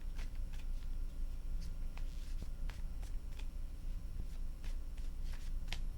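Tarot cards being shuffled by hand, soft riffling taps and slides repeating in short bursts over a quiet, steady background hiss.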